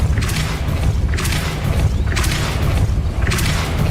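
Repeated Depulso force-push spell blasts in Hogwarts Legacy: three or four loud, broad whooshing bursts at roughly even intervals over a constant low rumble, with no voices.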